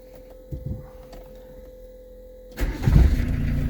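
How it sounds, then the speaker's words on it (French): A Peugeot 205 TD diesel engine cold-starts after glow-plug preheating, with a few quiet clicks and a faint pump hum first, then the engine catches abruptly and runs loud and rough at close range. "Démarrage à froid. Vous allez voir comment elle démarre bien."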